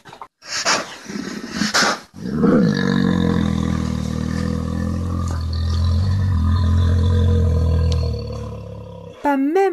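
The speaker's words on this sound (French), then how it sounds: "l'ours commença à hurler" Storybook sound effect of a bear howling in pain: a long, deep, rough roar swelling and wavering for several seconds after brief sharp noises, loud and close.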